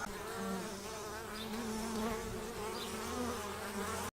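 Bees buzz continuously close by at a hive during a honey flow, a dense droning hum with individual insects weaving in and out, no voices.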